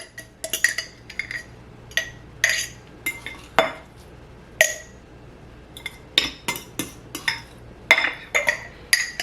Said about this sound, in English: I'm going to mix egg and butter and all that in here